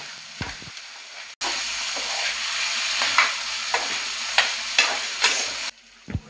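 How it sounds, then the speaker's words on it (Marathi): Freshwater crabs are stir-fried in a pan, producing a steady, close sizzling hiss broken by several sharp scraping stirs, with quieter moments at the start and end. "आता या परत सगळा एकत्र वर खाली परतून घेतला."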